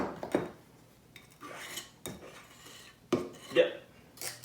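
Spoon scraping and clinking against a mixing bowl while scooping out the last of the pound cake batter, a few short scrapes and taps at close range, with no talking.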